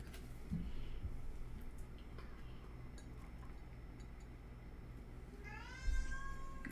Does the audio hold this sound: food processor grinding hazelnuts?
no